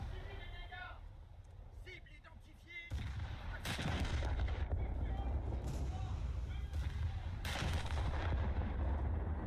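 Heavy naval guns firing in the War Thunder naval battle game, booming battleship salvos in a dense, continuous barrage after a quieter opening, with someone talking over the gunfire.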